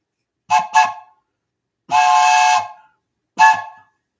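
A train whistle blows its railroad crossing signal: two short blasts close together, a pause, one long sustained blast, then a final short blast, loud and clear against silence.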